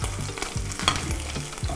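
Shrimp fry in butter in a pan with a close, steady sizzle, broken by rhythmic scraping stirs about every third of a second, with no voices.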